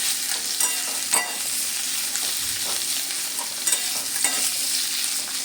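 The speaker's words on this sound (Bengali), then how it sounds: "পেঁয়াজ আর লঙ্কাটা একটু নেড়ে ছেড়ে ভেজে নেব।" Chopped onions and green chillies frying and being stirred in a pan, a steady close sizzle with scraping stirs and a few sharper clinks of the spatula throughout.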